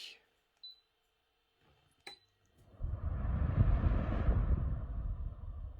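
A few faint clicks, then a Rowenta Air Force Intense 2-in-1 fan heater whirs up at high speed into a steady, fairly loud rushing hum close by.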